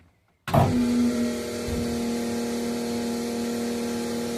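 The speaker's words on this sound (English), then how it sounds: "You should hear the pump start up again like we did before." A Magnafuel Pro 500 electric fuel pump kicks on abruptly and settles into a steady, close mechanical whir with a constant hum that runs without a break.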